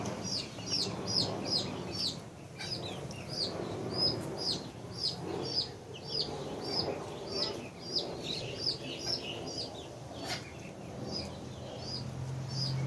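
Young breeding flock of chickens just starting to lay eggs, repeated short clucks and chirps at a moderate distance over a low background hum, one faint voice briefly present.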